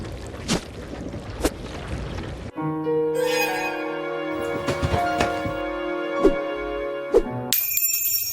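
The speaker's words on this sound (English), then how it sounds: "the picking up and dropping item sound effects" Resident Evil Zero item pickup and drop sound effects: a couple of thuds, then a layered chiming, clanking jingle with metallic tones, ending in a bright high ring.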